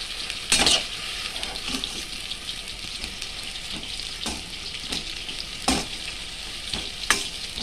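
Ghetu leaves frying in a pan with salt give a steady hissing sizzle, while a spatula stirs through them in occasional sharp scrapes and knocks, close up and without speech.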